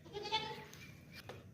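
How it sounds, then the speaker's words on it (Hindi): A large goat for sale on a farm in Pakistan gives a loud, wavering bleat with a few more calls after it, close by with no talking. "बहुत ही ज़बरदस्त बड़ी बकरी है"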